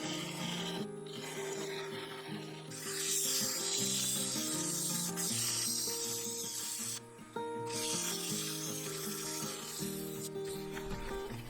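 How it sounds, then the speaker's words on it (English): 80-grit sandpaper working the centre of an ash segmented bowl on a lathe, a continuous close rasping rub with a steady tonal hum underneath that swells and eases with the strokes, with no talk. "I sanded the centre with 80 grit to clean up the surface"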